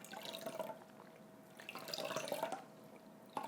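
A sea sponge is dipped and squeezed in a small bowl of water for pancake makeup, giving soft close drips and splashes in a few short clusters, with no talking.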